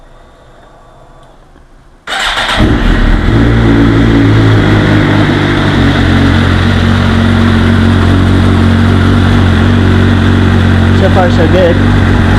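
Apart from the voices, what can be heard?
2009 Suzuki GSX-R 750 motorcycle engine started and idling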